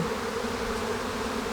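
Bees buzzing inside a beehive during a spring hive split, a continuous steady drone with a low hum, close and even throughout.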